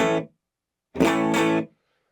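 Two short clean, dry electric guitar strums through a Matchless amp model on a Fractal FM9, the first cut off early and the second ringing about three quarters of a second before stopping dead, with silence between.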